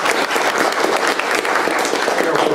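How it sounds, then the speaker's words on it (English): Spontaneous audience applause at a live magic comedy show, a dense steady burst of clapping that stays loud and close for the whole moment with no pause. "You not only get that spontaneous burst of applause"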